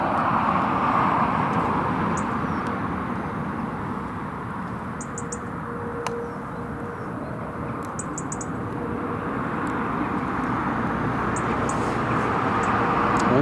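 A TUI Boeing 737 MAX taxis at Newcastle Airport, a steady distant jet engine whine and rumble holding at an even level, with faint high chirps and clicks scattered over it, no talking.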